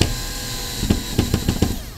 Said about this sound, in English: using your drill